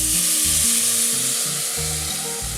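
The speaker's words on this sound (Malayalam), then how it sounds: "ഇതിങ്ങനെ പൊരിഞ്ഞു തുടങ്ങിയിട്ടുണ്ട്." Kochi-style meat rice (erachi choru) sizzles and fries in a pot, a dense, steady crackling hiss close up, with a low rhythmic clatter of stirring underneath.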